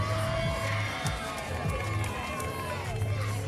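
A sold-out arena crowd in San Antonio at a 3-point shooting contest cheers and shouts steadily, a dense wash of voices with no clear break.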